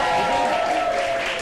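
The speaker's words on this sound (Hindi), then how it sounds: "तालियां बजाओ बिना सुने।" Studio audience applause on a Pakistani morning TV talk show, a dense steady wash of clapping that fills the short stretch without a break, loud and close, with a sustained tone running beneath it.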